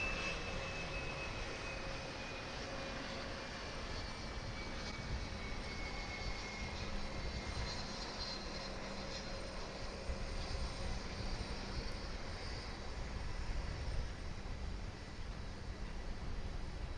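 An American Eagle airliner arriving at DFW International Airport after a short flight from Wichita Falls, Texas, its engine roar steady and moderately distant over a wash of broadband noise, with a faint whine sliding downward.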